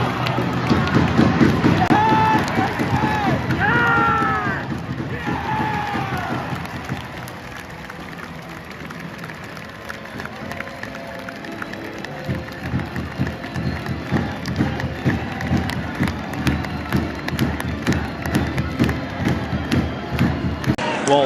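Arena crowd at an EIHL ice hockey game roaring and cheering around an on-ice fight involving a player, a loud sustained wall of noise with clapping and thuds, while a commentator talks over it.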